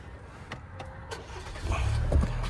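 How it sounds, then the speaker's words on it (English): A GMC Canyon pickup engine cranking and catching, a low rumble building near the end and settling into a steady idle after some faint clicks. "I'm actually going to start the truck for this."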